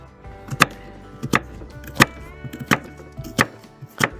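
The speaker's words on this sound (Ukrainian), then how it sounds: "Як цибулю нарізаю." A knife chops an onion on a cutting board in about seven sharp, evenly spaced strokes, crisp and close, with no talking.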